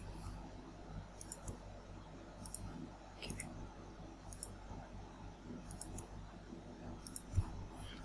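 A computer mouse clicks during Revit modeling work: crisp, light clicks, sometimes in quick pairs, spaced irregularly across a quiet room hum.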